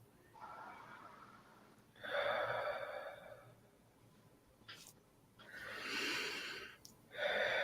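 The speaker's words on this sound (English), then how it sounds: "Just keep breathing" Slow, deep breaths during a guided meditation, several long airy inhales and exhales close to the microphone, separated by quiet pauses.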